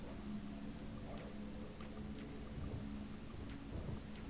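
Video game rain and thunderstorm from Deadly Premonition: steady heavy rainfall with low rolling thunder and scattered sharp drop ticks, continuous throughout.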